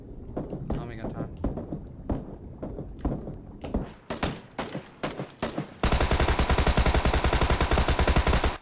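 Sustained automatic fire from a tommy gun in PUBG, a dense continuous burst of rapid shots lasting several seconds, loud and close, preceded by scattered single gunshots and game sounds.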